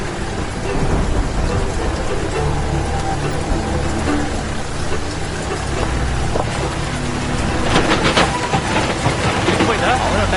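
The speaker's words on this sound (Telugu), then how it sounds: "బాగా వర్షం పడుతోంది." Heavy rain pours steadily in a dense, loud wash, with low rumbling like thunder and a burst of sharper spattering near the end, while people talk over it.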